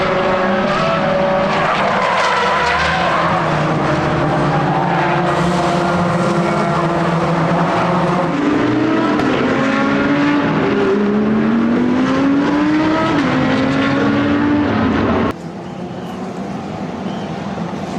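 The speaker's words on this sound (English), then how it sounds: "he's over Joe Warhurst into the barrier" Racing cars at speed during a motorsport event, several engines whining and shifting pitch as they pass, one car spinning into a barrier, loud and continuous before the noise drops abruptly near the end.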